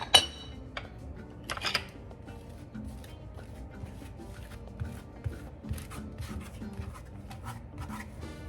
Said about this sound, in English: We're going to butter the outside.